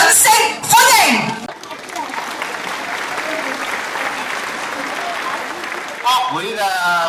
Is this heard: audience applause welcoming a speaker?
yes